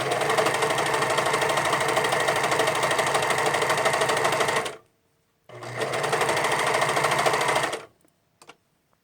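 A serger stitches elastic onto the waist seam of a gathered dress bodice, running as a steady, close, loud mechanical whir for about five seconds, pausing briefly, then running for roughly two more seconds before stopping.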